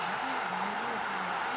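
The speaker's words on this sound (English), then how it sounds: "And the noise you can hear from the Bangladesh fans." A large crowd of Bangladesh football fans roars steadily from a distance at a Bangladesh versus Singapore match, a broad sustained wash of cheering and chanting with a faint tonal hum running beneath it.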